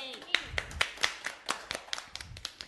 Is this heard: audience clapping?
yes